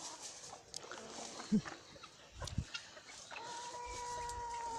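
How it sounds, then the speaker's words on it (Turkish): Faint clucking from five chickens scattered through quiet outdoor ambience, with a low hum and occasional soft bumps. "Bunlar beş tavuk."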